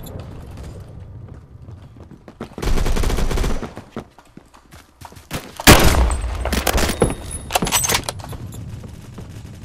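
Rifle fire from a FAL PARA in the first-person shooter Phantom Forces, loud close bursts of shots in two main clusters with mechanical clicks and rattles between them, no talking.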